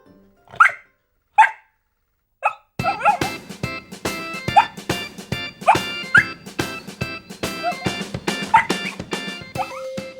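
A puppy gives a few sharp, separate yips, then barks and whimpers repeatedly and busily over a steady background, close and fairly loud.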